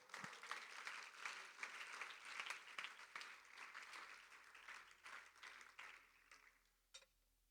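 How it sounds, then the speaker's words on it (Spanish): A church congregation claps in praise during a Spanish-language sermon, a sustained round of applause that tapers off near the end, fairly faint and distant. "Dele un aplauso al Señor."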